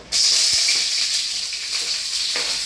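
Two chopped onions dropped into hot oil set off a sudden, loud, hissing sizzle that starts abruptly and holds steady, with a few faint stirring clicks; no one talks.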